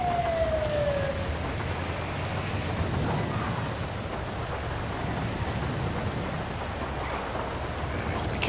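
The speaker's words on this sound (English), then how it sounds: "This rain is getting even stronger and more friggin' annoying." Heavy rain pours steadily in the GTA 5 police patrol game, a dense, continuous hiss that never lets up, with a short siren-like sweep at the start.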